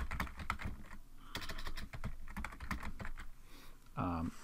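Computer keyboard typing while coding a web page, a quick irregular patter of key clicks under someone talking, close and fairly quiet.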